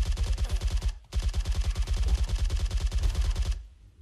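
Rapid automatic gunfire in the zombie mode of the mobile shooter PUBG Mobile, a loud continuous burst of evenly spaced shots that breaks off for a moment, resumes at the same fast rhythm and stops abruptly.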